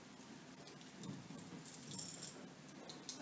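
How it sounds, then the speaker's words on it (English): A metal chain is threaded through a horse's halter, making a faint, close, light jangling and clinking of links that swells briefly midway and then fades, with no talking. "you're not making too much noise when you're putting the chain through the halter"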